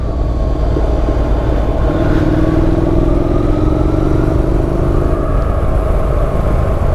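A motorcycle engine on a solo camping ride, a loud continuous close rumble that rises in pitch as the throttle opens, with road and wind noise throughout.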